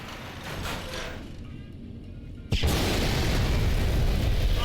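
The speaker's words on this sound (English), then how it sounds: "Oh god, flashbang." A flashbang grenade goes off in Fallout: New Vegas, a sudden loud bang midway that leaves a sustained, dense roar of noise after a quieter buildup.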